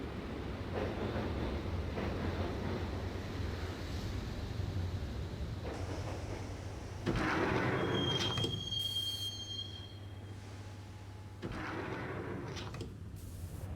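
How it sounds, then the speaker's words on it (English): A subway train ride in the Max Payne video game, with a steady low rumble of rail cars, shrill wheel squeals, and sliding-door sounds, loud and continuous throughout. "the train doors had already shut behind me, and I was in for the ride"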